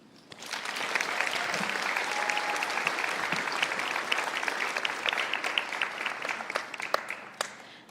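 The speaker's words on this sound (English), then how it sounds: "Please give another round of applause for Rithi and our Beacon of Hope Award winne" Sustained audience applause at an Oregon State University campus walk award ceremony, dense steady clapping from a sizable crowd that swells quickly and carries on for several seconds before starting to thin near the end.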